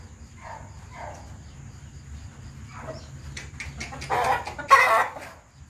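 Gamefowl at a game farm with Gilmore Hatch, Boston Roundhead and Sweater crosses give soft clucks, then louder, rougher crowing calls nearby toward the end, over a faint outdoor background at dusk.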